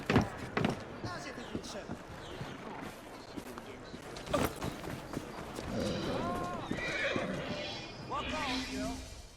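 Horse hooves clop and a horse neighs in the Assassin's Creed Syndicate video game, with irregular hoof beats, a whinny near the end and someone talking over the sounds.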